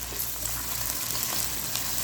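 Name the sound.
chicken frying in oil for pulao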